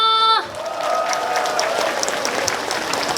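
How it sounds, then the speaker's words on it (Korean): A crowd at an outdoor jujube festival trot concert breaks into steady applause, loud and continuous, after a brief musical tone cuts off at the start. "박수 한번 주세요."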